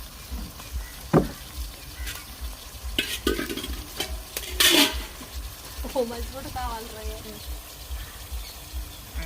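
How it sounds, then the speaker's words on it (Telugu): Small fish curry stirred with a cloth in a wide pan over a village fire, soft scraping and sizzling in irregular strokes, with a voice talking over parts of it. "ఒకసారి తిప్పుకుందాము. చేపల కూరలో గరిటె పెట్టకూడదు కాబట్టి ఒక క్లాత్తోనే తిప్పేసుకుందాం."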